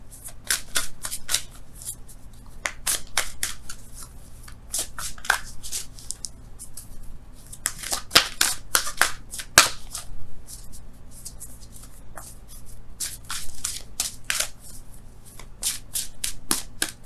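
Oracle cards for a tarot reading are shuffled in quick, crisp bursts of riffling and flicking, repeated again and again close up with short pauses between.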